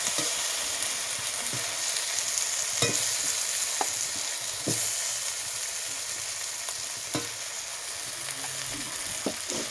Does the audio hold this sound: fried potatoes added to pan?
yes